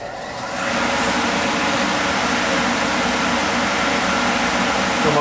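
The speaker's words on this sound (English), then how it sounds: "We'll run the wheel first, main spindle, just to listen to that." The main spindle of a Kellenberger 1000U three-wheel universal grinder runs as a steady, even mechanical hum and rush. It rises in the first half second, then holds constant and fairly loud with no talk.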